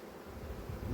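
Honeybees humming steadily during an October hive inspection, a close continuous buzz that swells slightly toward the end, with no talk.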